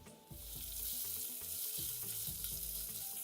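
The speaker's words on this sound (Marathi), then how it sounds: "कांद्याला छान तांबूस होईपर्यंत परतून घेऊया" Sliced onion frying in oil with ginger-garlic-green chili paste and spices for pulao, a steady close sizzle with intermittent scraping and stirring of a spoon against the pan.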